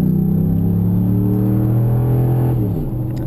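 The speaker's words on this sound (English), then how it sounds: "also gotta love hearing that big old exhaust roar and hear that nice Dodge Ram motor working" Dodge Ram pickup truck with a lift kit and big tires, its engine and exhaust roaring under acceleration. The low drone is loud and close, holds steady, then shifts pitch near the end as it changes gear.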